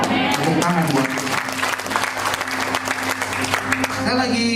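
Church congregation clapping steadily and loudly throughout a worship service, a dense continuous wash of applause with voices mixed in underneath.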